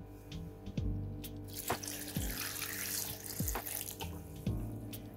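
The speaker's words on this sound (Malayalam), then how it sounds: "ഇനി പാകത്തിന് വെള്ളം ഒഴിച്ചു കൊടുക്കുക." Water pours into a mixer jar holding chopped amla, green chilli, ginger and lemon juice, a continuous close splashing stream that fills the whole moment with no talk.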